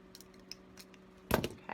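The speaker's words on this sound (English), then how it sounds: "just folding over my edges, cutting from the folded edge down to the point, down to the end to make the point" Dull scissors cut deco mesh ribbon for a zigzag wreath: quiet rustling, then one sharp, close snip and a short rustle after it.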